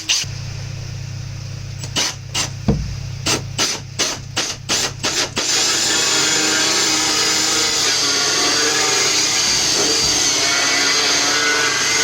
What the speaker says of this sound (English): I'm just preparing to drill a hole in the floor